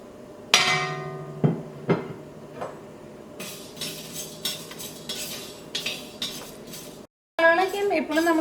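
Whole spices tipped into a hot pan and dry roasted for tandoori masala, with metallic clanks and clinks of utensils on the pan, scattered sharp scraping and rattling hits, then a brief gap and a louder burst of clatter.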